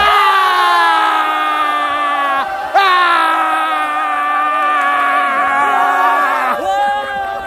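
A team at an autumn sports day erupts in sustained, loud cheering and whooping after women players do unexpectedly well in a penalty kick game; many voices yell together close by, with a brief break and a fresh surge.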